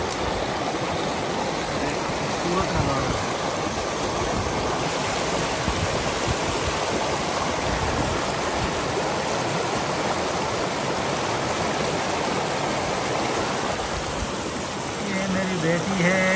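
Mountain stream water rushing down from the hills in Swat, Pakistan, a steady broadband wash heard up close throughout, with someone speaking briefly over the flow.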